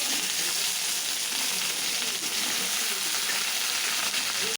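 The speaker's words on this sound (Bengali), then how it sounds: "এবার আমি একে একে তেলে কুচনো পেঁয়াজ, আলু, বেগুন একসাথে ছেড়ে দেবো।" Chopped onion, potato and eggplant frying in hot oil, a dense, loud, continuous sizzle that holds steady throughout at close range with no voices.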